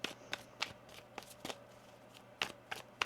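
Tarot cards being shuffled in a series of quick, crisp riffling snaps at an uneven rhythm, close up but quiet, with no talking.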